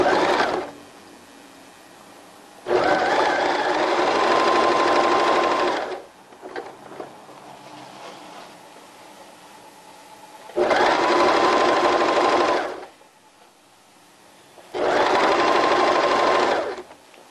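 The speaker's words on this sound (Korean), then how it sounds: "박음질을 시작하겠습니다." A sewing machine stitches lace on a pair of briefs in three loud, steady bursts of a few seconds each, separated by quiet pauses with faint handling noise.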